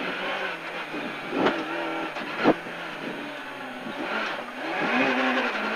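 Suzuki Ignis S1600 rally car on a wet stage, its engine droning and revving steadily from onboard, with a couple of sharp gear-change or bump transients and rising revs toward the end, no voices over it.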